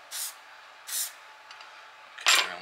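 A spray can applies a Brilliance coating onto a knife in two short hisses, followed after a pause by a louder, slightly longer burst, each clear and close in a quiet room.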